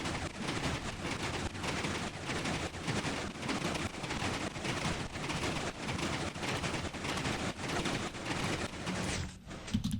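Minecraft redstone machinery drives a rotating room in a video game, producing a dense, rapid clatter of mechanical clicks and thumps that runs continuously before cutting off near the end.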